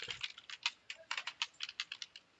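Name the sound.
typing Java code on a computer keyboard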